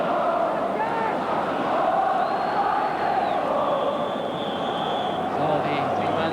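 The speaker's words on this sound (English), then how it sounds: "that has certainly brought the big crowd at Hampden to life" A big football crowd roaring at Hampden stadium during a 1981 World Cup qualifier between Scotland and Northern Ireland, a dense sustained roar filling the whole stretch, with a commentator talking over it.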